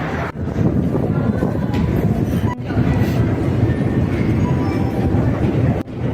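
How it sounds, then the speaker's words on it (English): A metro train in a deep Tbilisi metro station, a loud sustained rumbling roar of rolling wheels and rushing air, steady throughout with a few abrupt dips, no clear talking. "I'm going to show you the metro."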